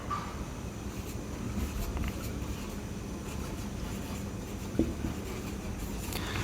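Pen scratching out a sentence by hand on paper, a soft, steady rustle of strokes with faint room noise and no talking.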